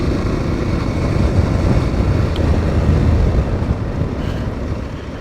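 Aprilia Tuareg 660 motorcycle with a 660 cc engine running steadily while riding, a continuous loud low rumble mixed with wind noise, no talking.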